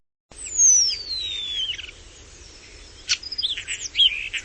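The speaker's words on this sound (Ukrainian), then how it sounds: "Тато ж так співає шпак." A common starling sings nearby with a long descending whistle followed by quick chirps, clicks and varied warbling notes.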